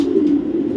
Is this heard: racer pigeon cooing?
yes